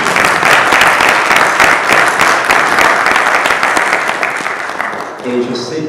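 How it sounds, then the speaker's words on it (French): Audience applause at the closing ceremony of Senegal's national conference, dense and loud, sustained for several seconds before tapering off at the end. "je voudrais qu'on l'applaudisse."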